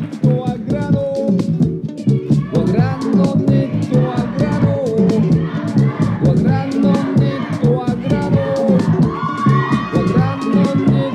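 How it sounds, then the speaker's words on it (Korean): An audience at a youth speech contest in Anyang applauds and cheers loudly for a middle school student speaker, a dense, sustained wave of clapping mixed with shouts and whoops that runs steadily throughout. "큰 박수 부탁드립니다."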